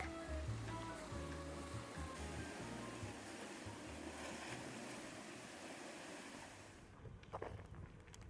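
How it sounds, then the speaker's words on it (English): Sea waves wash back and forth against rocks on the Puglia coast, a continuous broad surf rush with some wind noise, fairly faint and without talk. "the constant back and forth of the waves gently caressing the rocks"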